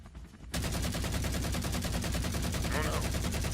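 Sustained rapid gunfire from a helicopter in pursuit, a dense continuous rattle of shots that starts abruptly and stays loud throughout, with a brief higher squeal mixed in near the end.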